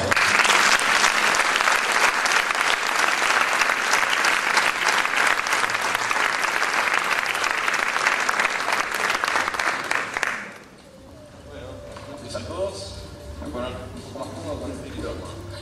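Loud, sustained applause from a large crowd at a Pecha Kucha talk event in Mar del Plata for about ten seconds, then it fades out abruptly into quiet room noise.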